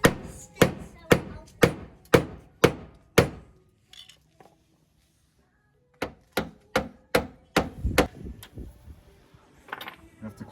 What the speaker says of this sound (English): Oh, I'm fixing this with a hammer.